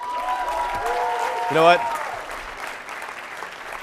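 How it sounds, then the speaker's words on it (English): A business summit audience at Harvard University claps steadily in a sustained wash of applause, with a voice speaking briefly over it. "a round of applause"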